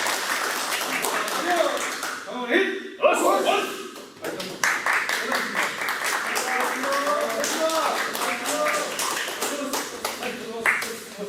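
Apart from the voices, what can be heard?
people applauding after karate sparring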